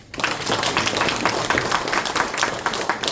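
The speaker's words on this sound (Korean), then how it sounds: "이 세 분께 박수 좀 부탁드립니다" An audience at a lecture breaks into steady applause, many hands clapping together at a fairly loud, even level that continues throughout.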